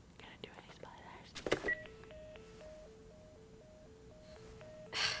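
A telephone dialed in The Last of Us gives a slow run of electronic keypad tones, alternating in pitch and evenly spaced, after a sharp clatter, with faint whispering voices early on.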